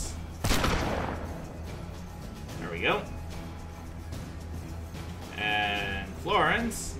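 Gunfire in the Western turn-based game Hard West 2: a sharp, loud shot near the start followed by fainter bursts, with speech and in-game voices heard between them.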